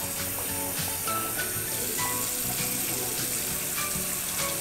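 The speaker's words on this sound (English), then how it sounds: "Okay, rinse again." Rice grains swished and rinsed by hand in a bowl of water in a home kitchen, a close, steady wet sloshing and grainy rustle throughout with no talking.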